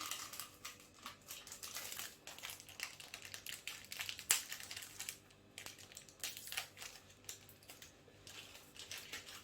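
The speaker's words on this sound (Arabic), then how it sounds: "وهاخد الكيس بتاع الخميره هنا هفتحه." Crinkly plastic rustling and tearing close by as a yeast packet is opened, with a sharp snap midway, continuing in bursts of crumpling.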